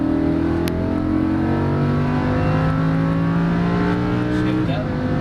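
A Lamborghini Huracan accelerates on a race track, its engine a loud, continuous roar rising steadily in pitch through the run, with a brief shift near the end.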